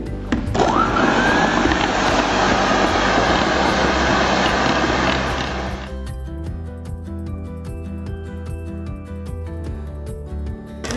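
Electric hand mixer beating chocolate cake batter, a loud whirring buzz close by that runs for about six seconds then stops, leaving quieter background tones and music.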